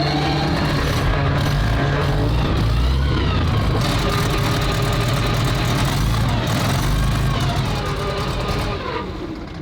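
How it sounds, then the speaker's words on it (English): The flat-six air-cooled aircraft engine in a Walker Bulldog tank runs close and loud in a workshop, a heavy, steady idling rumble that carries on throughout and eases slightly at the very end. "The Walker Bulldog, it's got a flat 6 air-cooled aircraft engine in it"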